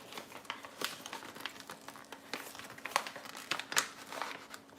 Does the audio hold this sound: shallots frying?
no